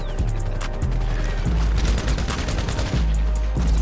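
Gunfire in GTA Online rattles in close, repeated bursts over a busy game background, with sharp shots clustered through the stretch.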